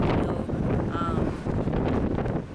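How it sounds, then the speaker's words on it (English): Steady, heavy sea wind buffeting the microphone on a cruise ship day at sea, a loud continuous rumble with gusty roughness throughout. "It's windy, but it's like really hot, so it's a nice wind."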